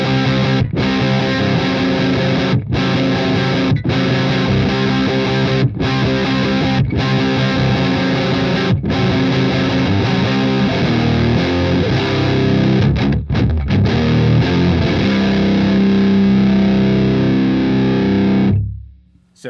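Electric guitar through a FUCHS Mantis Jr. amp with the gain fully up, thick heavily distorted chords ringing continuously and loud with brief choked gaps, ending in a sustained low note that cuts off abruptly.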